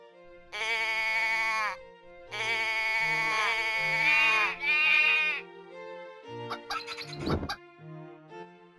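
A sheep gives several loud, drawn-out bleats close by, and brief rustling and clattering noises follow near the end.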